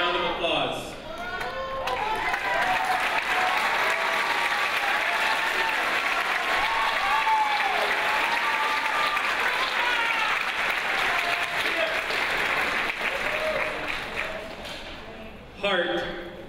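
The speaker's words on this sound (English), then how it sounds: "Could our roadies please stand for a round of applause?" Sustained applause and clapping from a high school spring concert audience fills the hall, loud and dense for over ten seconds before tapering off near the end, with some crowd cheering mixed in.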